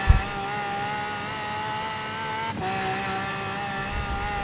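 A Lamborghini Aventador engine in Forza Horizon 4 holds against the rev limiter, giving a loud, steady, buzzing whine with one brief dip partway through, heard alone without speech.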